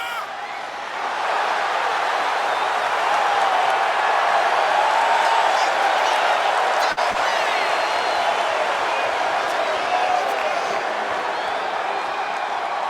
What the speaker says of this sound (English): The crowd is at its feet.